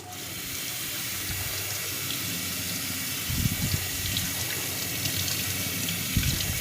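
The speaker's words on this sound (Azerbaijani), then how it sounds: "Lobyaları belə qırdıqdan sonra indi isə suya çəkirik." Broken green beans being rinsed under a running kitchen tap, a steady close hiss of flowing water into a sink with a few louder splashes and gurgles as the beans are moved.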